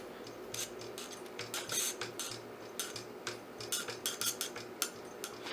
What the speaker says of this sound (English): The motor was making a funny noise. It was basically going like this.